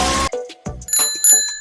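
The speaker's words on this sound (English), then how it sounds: "Bicycle." A bicycle bell rings out several clear metallic dings in short bursts, loud and close, after a brief burst of other sound at the start.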